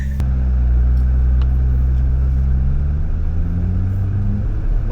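Nissan GT-R driving on a Tokyo road, a loud close engine drone with rising and shifting harmonic tones as it pulls and accelerates, no talk.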